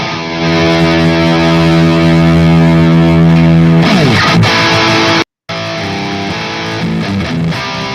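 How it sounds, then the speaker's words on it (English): Loud, heavily distorted electric guitar chords on the bridge pickup ring out with thick sustain, then a brief cut to silence before the crunchy riffing resumes. "Let me give you a little bit of the bridge with some distortion"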